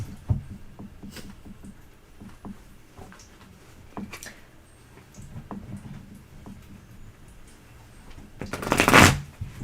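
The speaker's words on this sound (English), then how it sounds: "And Mr. O, shuffle." Tarot cards shuffled close up in quick riffling bursts with soft taps between, ending in a louder, longer riffle near the end.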